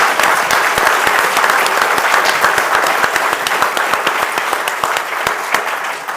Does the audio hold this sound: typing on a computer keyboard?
no